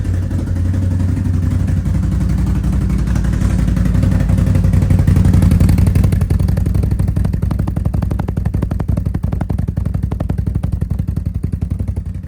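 An engine cold starts, turning over and catching, then settles into a loud, rapid, steady idle with a rattling exhaust pulse through a spark arrestor close by.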